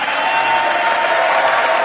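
Audience applause for a speech by President Biden on funding the police: dense, steady clapping from a large crowd, loud and continuous throughout, with no break or voice above it.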